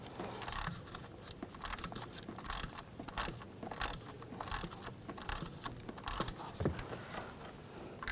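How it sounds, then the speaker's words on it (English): A ratchet fitted with an E6 socket turns out valve cover screws on a 2006-2010 BMW 550i 4.8L V8, giving quiet repeated clicking and scraping strokes in an irregular rhythm, close and faint. "use that E6 socket, take these screws out."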